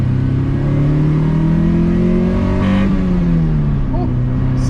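A Honda H22A engine in an EK chassis revs up through the gears, its steady drone climbing in pitch as VTEC engages, then easing off, loud and close from inside the car.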